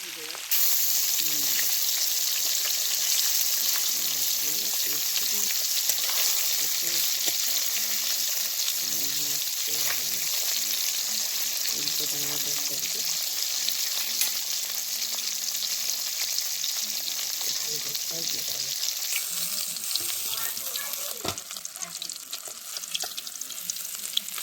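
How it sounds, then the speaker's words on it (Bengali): Large pond fish frying in oil in a wok, a steady, close crackling sizzle running throughout with occasional faint stirring and no speech. "তো এই মাছগুলো আমি লাল লাল করে ভেজে নিলাম।"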